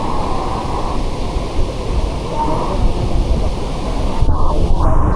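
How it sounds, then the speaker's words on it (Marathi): Roaring monsoon waterfalls all around the Marleshwar Shiva temple, with light rain falling and a river below: a dense, steady broadband rush of falling water, loud and continuous throughout. "सगळ्या बाजूने धबधबेच धबधबे आहेत."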